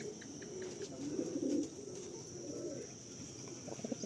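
Madrasi pigeons cooing in a loft, soft low rolling coos rising and falling across the clip, fairly faint against a steady high background hiss with no talking.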